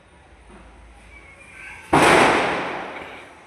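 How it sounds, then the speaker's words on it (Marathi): A single sharp firecracker bang bursts out loud at close range, followed by a crackling, smoky-sounding decay that fades slowly over a second and a half, with quiet ambient background before it. "फटाके वाजते."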